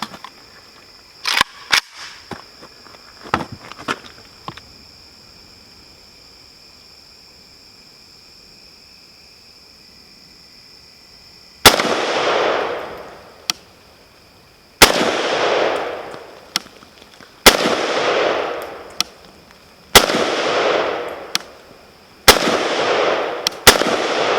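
A Vepr FM rifle fired outdoors from a Yugo bolt hold open magazine: a few sharp cracks early, a long pause, then six loud evenly spaced shots with ringing tails.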